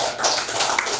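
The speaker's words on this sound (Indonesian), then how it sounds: "Tepuk tangan dulu." An audience at a Merci opportunity presentation claps briefly, a short burst of close, scattered hand claps with no talk over it.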